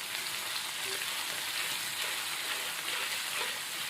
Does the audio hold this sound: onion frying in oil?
yes